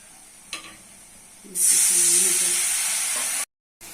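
Onion and spice masala with turmeric, cumin, coriander, chili and salt fries in hot oil, with a faint clink and then a loud, close sizzle for about two seconds before it cuts off abruptly.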